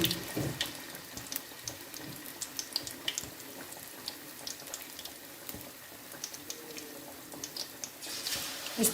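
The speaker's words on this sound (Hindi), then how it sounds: "अब हम फ़िश फ्राई करते हैं।" Fish pieces frying in hot oil in a large kadai, a faint steady crackle and sputter with scattered sharp pops, no talking.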